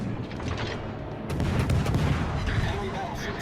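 Warship guns in World of Warships Legends fire at the battleship Musashi, heavy booming salvos that swell into a louder rumbling barrage midway, sustained and fairly close.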